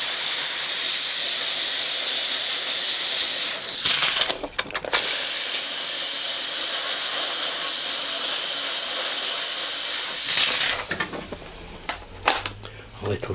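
Steam from a steamer for bending dulcimer timber hisses loudly and continuously at close range, briefly interrupted by a couple of clicks and handling noises, then tapering into quieter rustles near the end.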